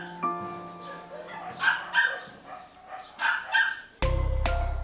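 Rescued dogs at an animal shelter in Capas, Tarlac bark and yip repeatedly in short bursts, fairly close, ending in a loud abrupt noise.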